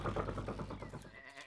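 Cartoon sheep bleat in a quick, wavering chorus, the bleats close and layered over one another before fading out near the end.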